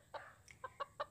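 A cartoon chicken in an Indonesian science animation about the chicken life cycle clucks four short times in a quick, uneven series, faint and close, with no talk over it.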